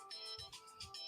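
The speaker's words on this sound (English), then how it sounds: "No, that's the ringtone." A phone ringtone plays alone: a bright, repeating electronic melody of short pulsing notes, clear and close for about a second.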